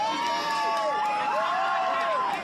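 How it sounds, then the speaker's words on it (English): Crowd outside the Manhattan courthouse erupting as a verdict is announced, a steady loud wash of shouting and cheering voices with rising whoops throughout. "Crowds gathered outside the Manhattan courthouse erupting when the verdict was announced."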